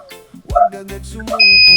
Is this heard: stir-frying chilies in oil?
no